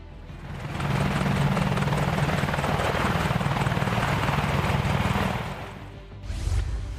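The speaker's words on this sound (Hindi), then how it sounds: "advance combat helicopter," An Apache attack helicopter flies overhead in Rajasthan, its rotor thumping in a fast steady pulse with a loud engine roar that swells in, holds, then eases off near the end.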